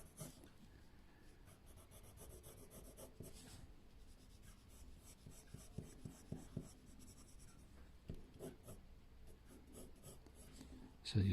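A pencil sketches a caricature on paper with pressure-based shading, giving a faint, close, continuous scratching and rubbing of graphite strokes with irregular rhythm and no talking.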